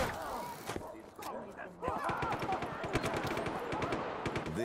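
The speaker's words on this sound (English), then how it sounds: "Gunfire!" Rapid bursts of gunfire from Just Cause 3 video game combat, sharp repeated shots crackling in quick succession over a steady background, with a voice speaking over it.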